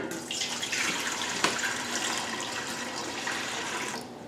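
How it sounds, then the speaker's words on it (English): Tap water pours steadily from a measuring cup into a metal brew kettle, a continuous splashing rush that stays loud and close before tapering off at the end. "add some water to my brew kettle using my measuring cup"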